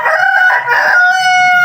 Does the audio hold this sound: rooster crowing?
yes